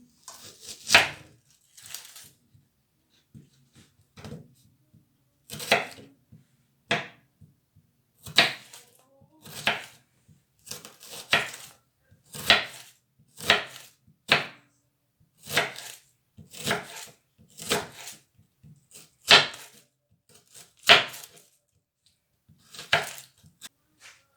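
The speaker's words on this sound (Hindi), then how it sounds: "प्याज काटेंगे।" A knife chops onions on a board in a home kitchen while a ginger chicken karahi is being made. Crisp, close strokes come in short irregular bursts with brief pauses between them, and no one speaks.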